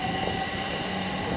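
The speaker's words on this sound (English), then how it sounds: "That's the train I came in on." A train at Leighton Buzzard station gives a continuous rumbling drone with a faint steady tone above it, close and constant throughout.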